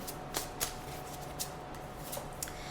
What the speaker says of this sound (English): let me go ahead and shuffle the cards